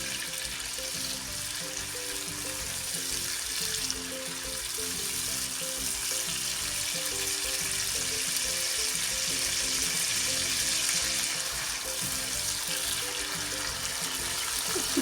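Cubed tomatoes sauté in a pan for squash curry, a steady close sizzle and hiss that swells gradually, with an occasional soft stir and no talking.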